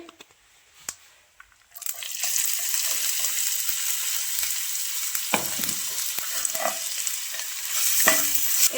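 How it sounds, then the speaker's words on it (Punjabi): Chopped onion, ginger and garlic fry on a low flame in a pan, a steady loud sizzle that starts after a couple of quiet seconds with a few clinks, and stirring scrapes and crackles run throughout. "ਇਹਨਾਂ ਨੂੰ ਆਪਾਂ ਲੋ ਫਲੇਮ ਤੇ ਭੁੰਨਾਂਗੇ ਜੀ ਪਿਆਜ਼ਾਂ ਨੂੰ"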